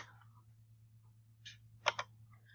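Two sharp mouse clicks in quick succession, close and fairly crisp, preceded by a fainter click, over a steady low electrical hum with no talking.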